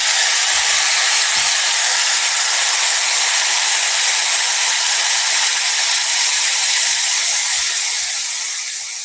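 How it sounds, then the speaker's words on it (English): A hair dryer blows steadily at full power to dry a handmade gift, a loud, even rushing hiss lasting throughout with faint clicks underneath and no talking. "So I'm gonna grab my hairdryer"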